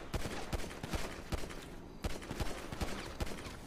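Rapid gunfire in a GTA game, a close, loud fusillade of sharp cracking shots in uneven bursts, with a brief pause midway before the volleys resume.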